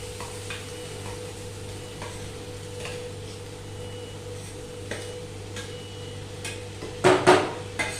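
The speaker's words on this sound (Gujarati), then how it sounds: "હવે આપણે બધું એકવાર મિક્સ કરી દઈએ." Potato masala mixture stirred in a pan for an aloo pyaas masala toast sandwich, a quiet steady sizzle with light scraping, then a short burst of louder stirring scrapes near the end.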